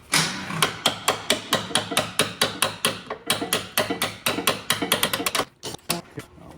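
A hammer drives a bolt into its hole while installing Öhlins coilover suspension on an E90 BMW M3, with a quick, steady run of sharp metallic taps at close range that briefly pauses and then resumes.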